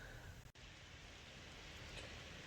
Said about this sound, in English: The rain is even heavier than it was before.